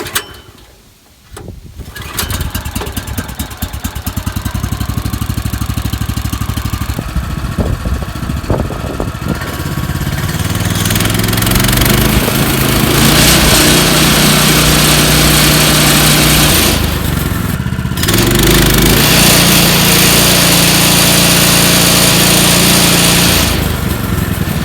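Small engine on a Woodland Mills HM126 sawmill starts up and runs at a steady, loud drone, with a brief rev change partway through and no talk over it.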